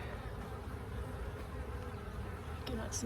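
Honeybees buzzing around an open hive during a quick hive check for swarm cells, a continuous close droning hum with individual bees passing near, steady throughout without speech.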